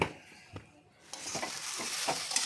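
Mashed taro paste frying in a wok, a quiet sizzle that swells after a brief lull, with a few soft scraping stir strokes up close and no speech.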